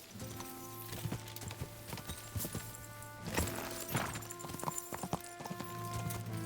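Horse hooves clip-clop steadily in the video game Kingdom Come: Deliverance II, a rhythmic run of close hoof beats over a bed of game music and ambience.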